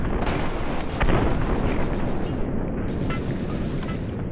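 In the video game WarAgain, a tank is destroyed with a loud booming explosion that rolls out into a long rumbling roar. The blast stays close and heavy throughout, with no talking.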